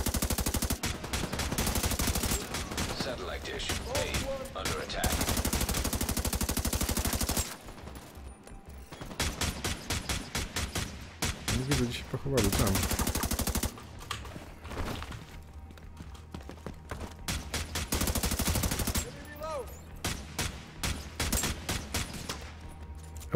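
Gunfire in Tom Clancy's The Division 2, with rapid automatic bursts and repeated shots in long sustained volleys, loud and close, broken by brief pauses between strings of fire.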